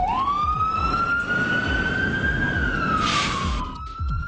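An ambulance siren wails on a rescue dispatch, with one long, loud rising-and-holding tone over steady vehicle and traffic rumble, close by and continuous.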